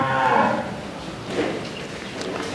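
A bull moos twice nearby, a long low call followed by a shorter one.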